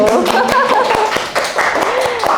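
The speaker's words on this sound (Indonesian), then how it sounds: "Fakultas Ekonomi Uniska. Kita beri aplaus dulu." Audience applause for Fakultas Ekonomi Uniska at a stock-trading competition event: brisk, fairly close clapping from a crowd mixed under a speaking voice throughout.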